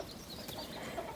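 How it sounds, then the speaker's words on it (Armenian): Rooster clucks faintly in a village, a short, quiet fowl call against light outdoor background. "Հագլորները հերթով ծուղրուղու են կանչում"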